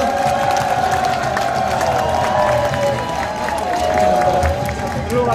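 Crowd at an outdoor campaign rally on Daegu's Dongseong-ro street clapping and cheering steadily throughout, a dense wash of applause with shouts and whoops mixed in, loud and close.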